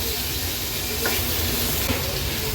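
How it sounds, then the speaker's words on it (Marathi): Chopped tomato is stirred into a sizzling turmeric and spice masala for Dhaba-style sev tomato curry, giving a steady broadband frying hiss with a couple of soft scraping stirs, close and fairly loud, with no talking. "हा मोठा टोमॅटो घेतला आपण बारीक चिरून तो ॲड करूया आणि व्यवस्थित मसाल्यांमध्ये मिक्स करून घेणार आहोत"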